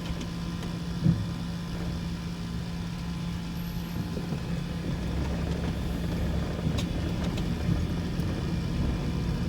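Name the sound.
van engine running with funny noises while driving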